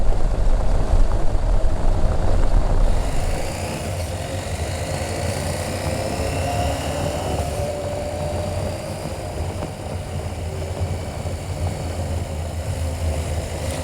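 A 2021 KTM 890 Adventure R twin-cylinder motorcycle engine droning steadily while riding, with a loud rumble at the start that settles into an even, sustained hum and wind noise for the rest.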